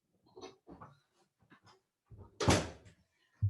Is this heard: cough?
no